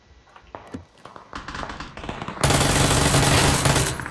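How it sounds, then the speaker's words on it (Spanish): Scattered sharp gunshots in PlayerUnknown's Battlegrounds ring out, then a loud sustained burst of rapid gunfire dominates the second half, close and intense. "Acá atrás escuché disparos"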